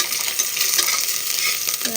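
Ginger fries in hot oil for khichuri, a steady close sizzle with occasional stirring scrapes throughout, no talking.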